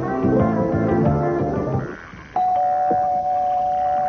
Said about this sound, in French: j'ai entendu la sonnette